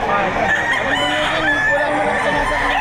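Chickens cluck and roosters crow in overlapping calls at a livestock auction market in Padre Garcia, Batangas, a dense, loud chorus of fowl filling the whole stretch.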